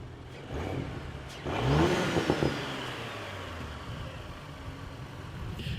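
An Audi S4 B9 fitted with a KW HAS suspension kit drives off and accelerates, its engine rising into a loud rev before settling into a steady cruising drone.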